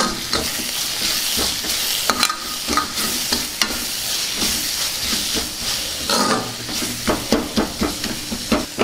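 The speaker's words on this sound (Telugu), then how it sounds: "ఇప్పుడు ఒకసారి కలుపుకుందాం." A spoon stirs mint rice masala with turmeric and salt in a hot pan, giving steady loud frying sizzle and hiss with scraping strokes throughout, close up with no speech.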